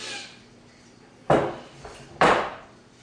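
A 12-inch cast iron sauté pan about 1.5 inches deep being handled, with two sharp knocks about a second apart as it is set down on a hard surface, close and clear, with no talk.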